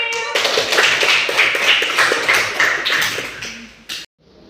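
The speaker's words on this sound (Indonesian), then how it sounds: "Tepuk tangan buat Mbak April." Schoolchildren in an Indonesian classroom clap for a classmate during a lesson: a dense, loud burst of group clapping that holds steady, then cuts off abruptly.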